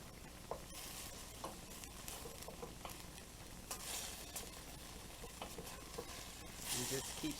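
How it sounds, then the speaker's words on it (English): Chopped vegetables sizzle in a pot for vegetarian chili, stirred throughout with scraping strokes and soft clicks over a steady, fairly quiet frying hiss. "Just keep stirring just to get a good translucent on your vegetables."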